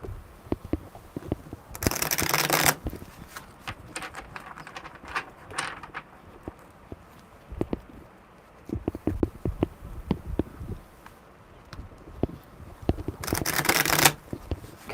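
Tarot cards are shuffled in quick riffling bursts at close range, with rapid flicking and patting of cards in between, loud and crisp with almost no talk.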